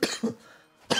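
Two quick coughs close by, a short pause, then another cough.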